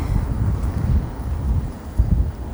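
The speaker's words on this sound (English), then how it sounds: "it's a little bit windy." Steady low wind buffeting a microphone on a sunny, extremely cold day in Calgary, Alberta, rumbling in gusts that swell and ease, with no talking.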